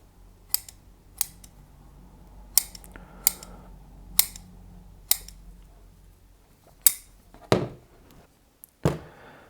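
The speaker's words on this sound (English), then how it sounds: "There's no feeder roots attached to this one, so let's go ahead and cut that back anyway." Scissors snipping back the roots of a Chinese elm bonsai during repotting, about nine sharp separate cuts at uneven intervals, close and clear over quiet background.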